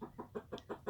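A hen clucks loudly in a chicken coop in quick repeated bursts, about six rhythmic clucks in one second, close and clear with no talk.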